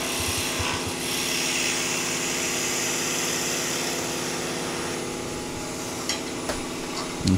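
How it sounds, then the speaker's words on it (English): Steady, droning whir of an electric sander running continuously on wood, loud and close, with a brief clunk at the very end. "now we'll do a bit of sanding"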